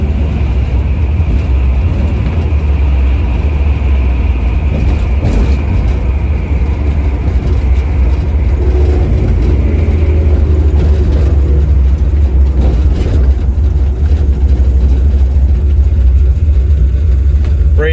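A 1970 Chevrolet Nova with a 383 stroker V8 drives along, its deep engine rumble loud and continuous from inside the car. The engine note rises and falls as it accelerates, and voices are faint beneath it.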